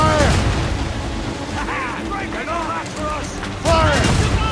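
Ship cannons firing in the video game Assassin's Creed Rogue: heavy booms at the start and again near the end, with shouting voices over a rumbling battle backdrop.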